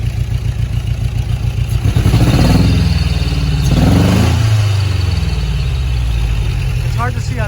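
Engine on a custom-built vehicle revving up twice from a steady, loud, throbbing idle close by, each rev swelling and then falling back to idle.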